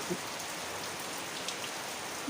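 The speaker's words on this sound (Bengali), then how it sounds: "বৃষ্টি পড়ছে" Steady rain falls in a continuous hiss, with a few individual drops tapping nearby.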